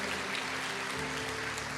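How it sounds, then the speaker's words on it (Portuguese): Church congregation applauding together, a steady dense wash of clapping that fills the whole short moment at moderate level with no talk over it. "A igreja dá uma salva de palmas para essas vidas."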